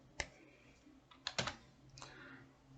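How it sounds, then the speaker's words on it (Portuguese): Keys tapped on a computer keyboard while entering text in a spreadsheet, a handful of quiet, close clicks spaced irregularly, with no talk over them. "vou digitar aprovado"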